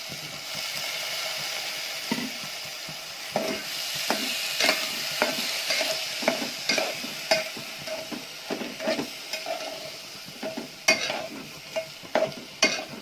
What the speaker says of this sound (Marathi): ही भरड त्यात टाकून द्यायची आहे चांगली। परतून घ्यायची तुपात।